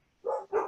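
Dogs bark at home, two short barks in quick succession, fairly close and loud, with quiet between them.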